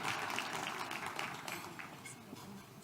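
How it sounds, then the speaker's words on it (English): Audience applause fills a hall at the 2021 Matthew Goniwe Annual Memorial Lecture, a dense, steady patter of many hands clapping that stays fairly close and even for a few seconds. "Please give him a round of applause."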